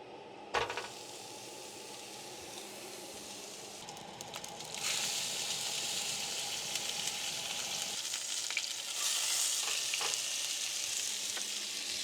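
Steak frying in a pan inside a camper van, a steady loud sizzle and crackle with occasional scraping and stirring clatter, close up and continuous with no talking.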